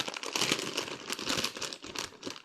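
Crisp, close crinkling of a plastic cat food packet, handled in quick rustling bursts with no talking.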